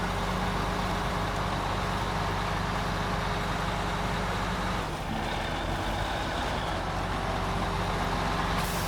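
The Dairy Special, a truck on 50-inch tires, grinds steadily uphill in an old mine, its engine droning loud and constant the whole time with a brief dip midway and no talk.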